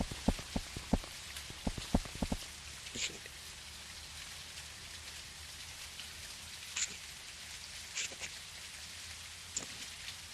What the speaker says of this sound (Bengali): ভাই বৃষ্টিও চলে আসলো